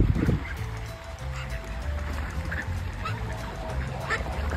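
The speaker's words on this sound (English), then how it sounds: "It's swans up here," Swans calling on a stretch of the Norwegian west coast: a series of short, nasal honking calls, several birds at moderate distance, repeated irregularly over steady outdoor ambience with no speech.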